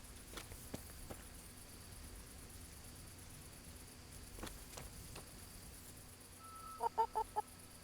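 In the medieval video game Kingdom Come: Deliverance, a chicken gives a quick burst of four clucks near the end, over steady ambient game noise and a few faint footstep-like thumps.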